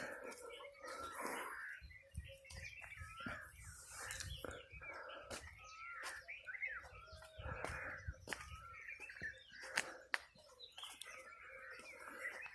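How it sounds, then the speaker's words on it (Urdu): An Asian koel sings on a village morning, its calls mixed with other birds chirping and cawing in a busy, moderately distant outdoor chorus with scattered sharp sounds. "یہ وہ پرندہ ہے جس کو ہم کوئل بولتے ہیں، اور وہ اچھی سی بولی آپ کو"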